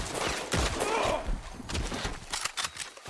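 Rapid gunfire from a shootout in the online Western game Red Dead Redemption 2 Online comes in close, sharp bursts and scattered shots, with mumbled voices faintly underneath.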